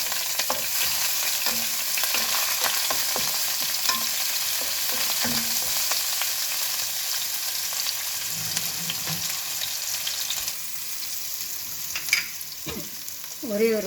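Small shallots frying in oil as the base for tomato rice, a constant close sizzle with intermittent stirring scrapes and light clinks of a spoon against the pan.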